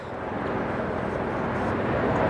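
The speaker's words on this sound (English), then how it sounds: "I'm letting a helicopter go by. That'd be the Coast Guard, you know." A Coast Guard helicopter passes overhead as a steady, broad engine-and-rotor drone that swells gradually louder over a couple of seconds, with no one talking.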